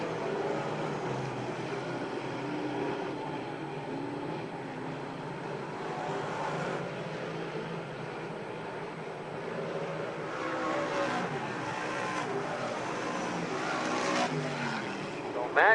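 Race cars circle a track at a U.R.S. event, engines droning and swelling as the pack passes, heard from a distance under a steady wash of crowd and track noise with faint voices.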